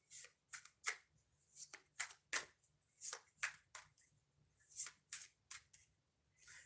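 Oracle cards are shuffled in quick, crisp riffling bursts that repeat in an uneven rhythm, close and fairly quiet, with brief silences in between.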